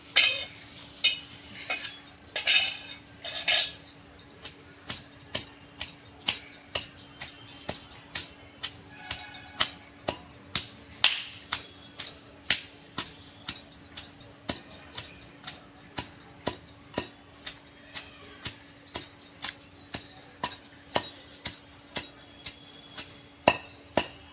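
Mint chutney ingredients are pounded in a stone mortar, producing a long run of sharp, repeated knocks and clinks in an uneven rhythm, some loud and some faint, with no voices.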